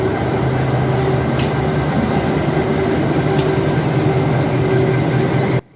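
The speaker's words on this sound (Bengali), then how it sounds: "এটা হলো আমাদের ট্রেন 13053 আপ হাওড়া থেকে রাধিকাপুর কুলিক এক্সপ্রেস।" Inside Howrah station, the Howrah–Radhikapur Kulik Express, train 13053, gives a loud, steady low rumble with a constant engine hum, ending abruptly.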